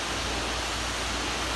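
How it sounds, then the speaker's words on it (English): Water pours steadily into a honey extractor, a constant broadband rushing hiss with no breaks. "So what I'm doing is I'm filling it full of water."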